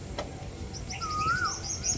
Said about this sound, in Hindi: यहाँ पे कोयल की आवाज़ आ रही है।